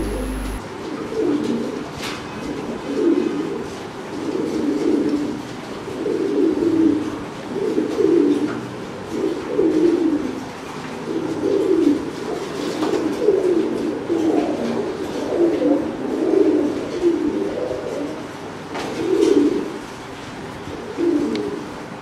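Old-breed highflyer pigeons with brown necks coo near and clear in a repeating rhythmic series of soft, throaty calls, with faint background noise and no talking.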